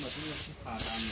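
A compressor-driven spray gun sprays paint onto wood in a workshop, giving bursts of close, hissing airflow broken by a brief pause before spraying resumes.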